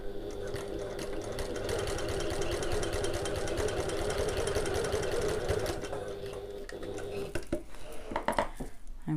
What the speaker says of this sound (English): Now we are going to sew the short ends together using our regular seam allowance of 3/8 of an inch or 1 centimetre.